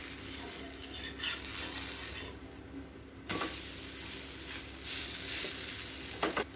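A bottle gourd adai dosa sizzles on a hot pan after being flipped, a close, steady hiss and crackle that dips briefly and then returns strongly.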